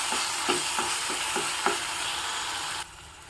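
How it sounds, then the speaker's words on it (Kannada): Onion frying with raw tomato paste in a pan, a steady soft sizzle broken by a series of light regular scrapes as it is stirred, quiet and close, then dropping away abruptly near the end. "ಈಗ ಸ್ವಲ್ಪ ಹಸಿ ವಾಸನೆ ಹೋಗೋವರೆಗೂ ಚೆನ್ನಾಗಿ ಹುರ್ಕೊಳ್ಳೋಣ"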